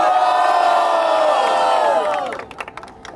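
Loud crowd at a rap battle cheers and yells in a sustained roar for two seconds, then fades into scattered claps and a few lingering shouts.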